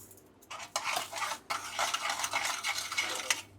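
Milk and sugar mixture for kalakand stirred in a pan, a steady scraping and swishing of a spoon against metal with faint sizzling, close and continuous, no one talking.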